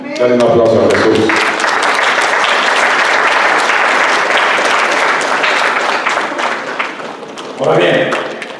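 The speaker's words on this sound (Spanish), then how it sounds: "Dale un aplauso a Jesús." Church congregation applauding during a sermon, loud sustained clapping that fills several seconds, with the preacher's voice heard at the start and end.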